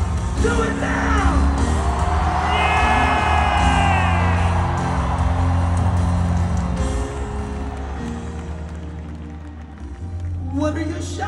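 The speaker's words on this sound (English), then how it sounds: "I need somebody in Chicago to give God a loud shout." A church congregation in Chicago shouts praise to God, a loud sustained roar of whoops, yells and cheering voices filling the hall, swelling again near the end.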